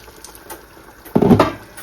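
Water poured into a pan of mutton curry with potatoes, a short, loud splashing gush after a quiet lead-in.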